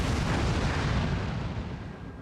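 Grenade explosion in the video game XCOM 2, a loud, broad rumbling blast that stays heavy and full before slowly fading, with no talking over it.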